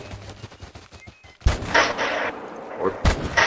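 Gunfire in the hunting video game The Hunter: Call of the Wild: a sharp loud shot lands mid-clip and another follows near the end, each with a trailing echo over quieter game ambience.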